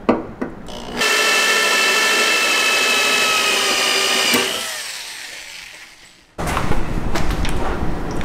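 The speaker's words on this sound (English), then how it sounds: "it just cuts all the way around the spot weld without necessarily making a hole in the car" A loud spot weld cutter grinds steadily for several seconds drilling out a spot weld on a Nissan car body, winds down, then another harsh burst of cutting starts up, close by.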